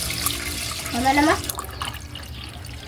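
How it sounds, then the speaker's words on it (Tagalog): Water pours onto rinsed glutinous rice for champorado, a short close splashing stream as someone talks over it. "At saka, lagyan na po natin ng tubig po."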